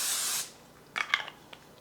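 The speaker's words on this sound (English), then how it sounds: "I'm going to use non-stick cooking spray" Non-stick cooking spray hisses steadily from an aerosol can into a muffin pan for about half a second, followed by a few light clicks and taps of the can nearby.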